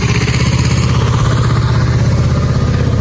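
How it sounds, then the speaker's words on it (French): A tractor passing close on a country road produces a loud, steady, throbbing engine rumble that fills the whole stretch without pause. "il y a un tracteur."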